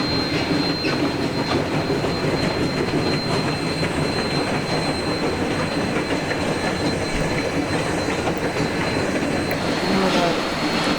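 Steam train with a combination car crossing a long, scenic bridge, a steady loud rumble of wheels and rolling stock with faint squeal, continuous throughout without pause.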